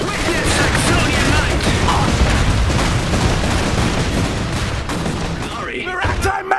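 Dense battlefield gunfire from the Iron Harvest strategy game rattles on without pause, machine-gun bursts and heavy booms merged into a loud, steady barrage before it thins out near the end.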